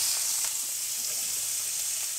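Curry paste sizzles steadily in a hot pan as minced pork is stir-fried into it for a mushroom curry, a continuous close hiss with no voices.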